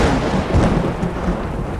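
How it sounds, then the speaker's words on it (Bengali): A thunderclap sound effect for a horror story: a short, heavy rumbling boom with a rain-like wash, loud and close, with no voice over it. "হঠাৎ কান ফাটানো শব্দে একটা বাজ পড়ল কাছেই কোথাও।"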